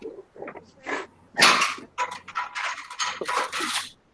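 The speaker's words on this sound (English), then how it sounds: "Dog, but he's not here. He's in the bathroom." A dog barks several times in short, uneven bursts, fairly loud and close, with brief pauses between the barks.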